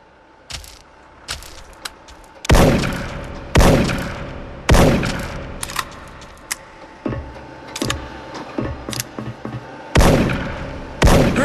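Gunfire in the online shooter Special Force (Soldierfront): sharp, loud single shots ring out one at a time with gaps between, along with lighter clicks and clatters of in-game action.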